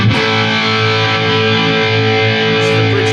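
An electric guitar on its bridge pickup rings out a sustained, heavily distorted chord, loud, dense and steady for the whole stretch with no talking, in a heavy metal tone.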